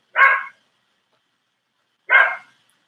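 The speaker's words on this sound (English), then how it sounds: "He's barking because my husband is outside doing something in the yard." Two sharp dog barks, spaced about two seconds apart, ring out against silence.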